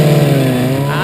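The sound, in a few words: historic Formula Ford race cars starting race at Brands Hatch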